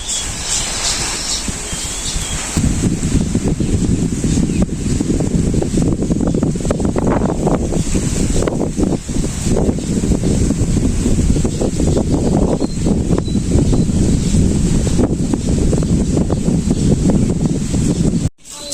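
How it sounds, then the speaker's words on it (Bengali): Strong wind gusting steadily across an open rice paddy field, buffeting the microphone with a dense low rumble and rustle that holds nearly constant, quieter only in the first few seconds. "দেখেন কি বাতাস ছাড়ছে"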